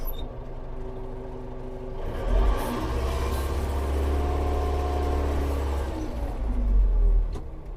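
A DTZ 5504 tractor engine runs while driving in reverse gear, heard as a steady mid-pitched rumble with deep low-end swells that rise and ease over several seconds, close and alone without talk.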